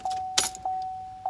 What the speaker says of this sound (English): Turn the key on.